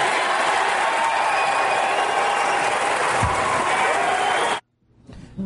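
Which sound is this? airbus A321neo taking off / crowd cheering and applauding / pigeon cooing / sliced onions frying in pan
crowd cheering and applauding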